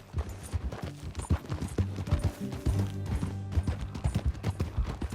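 Rhythmic clip-clop of a horse's hooves galloping in the Western video game Red Dead Redemption 2, steady and fairly close, with some low rumble underneath.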